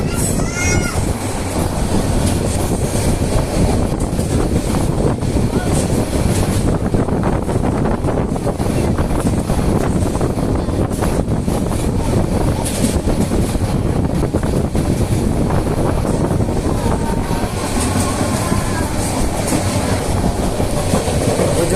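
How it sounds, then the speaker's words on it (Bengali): A train runs along a curving track at night near the Jamuna bridge, a loud continuous rumble with rhythmic clickety-clack of wheels and wind buffeting the microphone, heard close from on board. "ট্রেনটা বাঁকা হয়ে যাচ্ছে, অনেক সুন্দর লাগতেছে মাশাআল্লাহ।"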